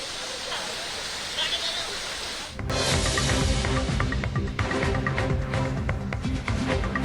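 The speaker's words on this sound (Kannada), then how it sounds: "ಭಾರಿ ಮಳೆಯಿಂದಾಗಿ ಹೊಗೆನಕಲ್ ಜಲಪಾತ ಅಬ್ಬರಿಸ್ತಾ ಇದೆ" Hogenakkal waterfall in Karnataka swollen by heavy rain bursts in partway through as a loud, dense, continuous roar of rushing water that stays steady to the end.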